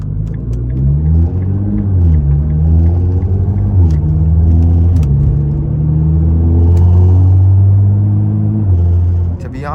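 Nissan GT-R driving through a canyon, a loud close engine rumble rising and falling with gear changes, with faint talk mixed in.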